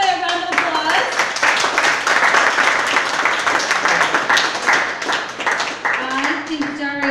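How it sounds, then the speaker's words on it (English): Audience clapping at a live performer's event, a dense steady patter of hands lasting throughout, with voices and cheering mixed in over it and a lone voice rising near the end. "Give everybody a round of applause."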